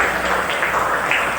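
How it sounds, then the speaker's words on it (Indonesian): Students in a classroom applaud together, a steady wash of clapping from many hands that carries evenly through the moment without a break. "tepuk tangan buat kalian semuanya"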